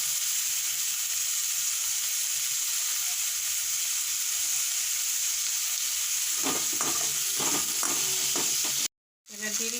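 Steady hiss of oil frying in a pan, then chopped tomatoes with ginger paste and Kashmiri chili paste go in, bringing a louder sizzle and a few clinking stirs near the end.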